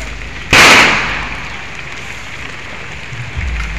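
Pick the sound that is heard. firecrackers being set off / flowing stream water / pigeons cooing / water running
firecrackers being set off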